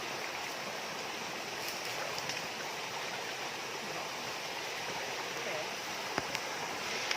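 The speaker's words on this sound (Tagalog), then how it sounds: "Waterfalls, waterfalls." Water pours steadily over Tinakayanan Falls in Labrador, a continuous broadband rush that holds even and unbroken at moderate distance, with a few faint clicks near the end.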